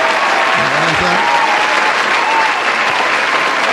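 A crowd at a Trinidad and Tobago music producers' challenge show keeps up dense, loud applause, with cheering and voices blended into it.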